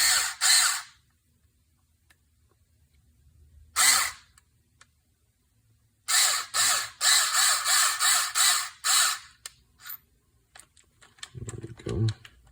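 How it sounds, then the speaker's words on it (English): A screw cuts threads into the plastic parts of a 3 Racing Cero Sport kit, heard as separate bursts of buzzing and a quick series of ratcheting pulses, followed by faint handling noises. "You can always apply a little bit of grease as well to help it cut the threads into the plastic."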